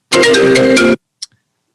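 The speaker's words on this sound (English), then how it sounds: "I got a phone call" A phone ringtone sounds loud and close in one sustained burst of just under a second, followed by silence and a faint short blip.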